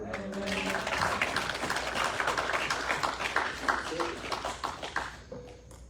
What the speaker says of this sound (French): On applaudit Pasteur Renard.